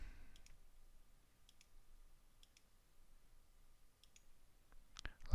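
A computer mouse clicking while modelling in 3D software, with faint, sparse single and double clicks spaced a second or so apart over a quiet room and a louder cluster of clicks at the end.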